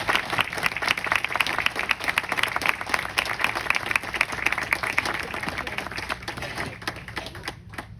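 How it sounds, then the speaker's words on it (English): Audience applause at a retirement event, a dense steady wash of many hands clapping for the board president, filling the room throughout and thinning slightly toward the end. "let's give her a round of applause."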